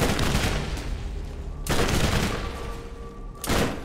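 In the video game Borderlands, an explosive weapon fires three heavy, booming blasts spaced well apart, each a loud broadband burst that trails into rumbling decay.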